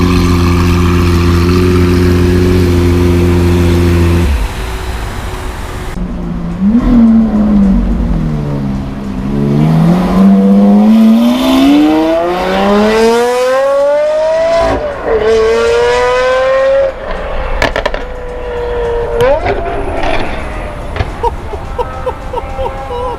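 Lamborghini Aventador with an aftermarket exhaust idling at a car meet, a loud, deep, steady rumble for several seconds before it cuts out, followed by rising and falling engine sweeps as it revs and moves off.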